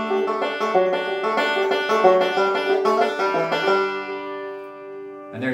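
A bluegrass banjo plays a classic lick, bright rolling picked notes in quick succession, close and clear, ending with ringing sustained strings.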